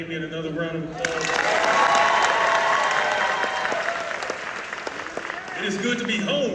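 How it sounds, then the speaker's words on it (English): Graduation audience at the Henry Ford High School 2025 commencement breaks into a loud, sustained round of applause that swells after a brief pause, with voices speaking over the dense clapping near its end. "Can we give Damien another round of applause?"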